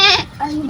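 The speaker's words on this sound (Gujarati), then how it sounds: "બકરી જો" A goat bleats loudly and close by in one short wavering cry, then a softer second call follows right after.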